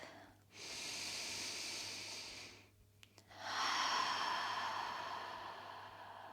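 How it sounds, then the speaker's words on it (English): Deep breathing during a yoga session, a long slow inhale then a longer rushing exhale after a short pause, close and soft, with no talking. "Take a round of breath."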